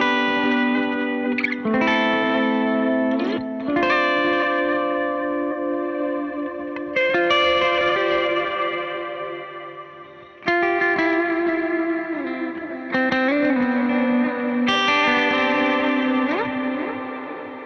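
Electric guitar rings out through a Meris LVX modulation pedal, its sustained chords and notes washed in chorus, echo and reverb with a dramatic shimmering sweep, playing continuously with brief dips between phrases.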